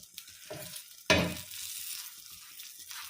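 Bread toasting in ghee on a pan: a sudden sharp sizzle as the slice hits the hot fat, then a steady, quiet crackling fry, with faint scraping from stirring or turning.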